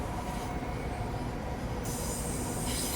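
A Class 365 electric multiple unit running in the Train Sim 2021 video game, its steady rumble and rail noise continuous and fairly loud throughout, with no talking.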